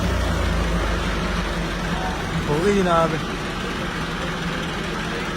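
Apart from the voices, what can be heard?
tractor engine starting and idling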